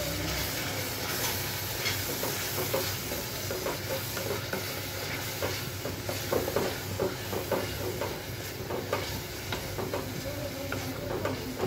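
Chopped garlic sizzling and frying in a pan for a naga chili pickle, with steady crackle and repeated scraping stirs from a utensil, close and continuous throughout.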